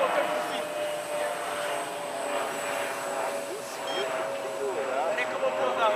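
A model airplane motor drones steadily overhead as it flies before landing, a continuous buzzing whine at moderate distance with faint outdoor background and no clear speech.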